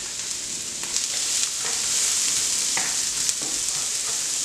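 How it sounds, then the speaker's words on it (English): Onions, carrots and garlic frying in a pan for shepherd's pie, a loud, continuous close sizzle with occasional soft stirring clicks and no voices. "I'm going to add the onions and carrots and cook them down,"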